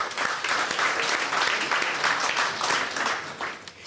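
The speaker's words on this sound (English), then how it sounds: "Give yourselves a round of applause" Sustained audience applause at a live literary conversation event with author Helen Garner, dense steady clapping from a crowd filling the whole stretch without a break.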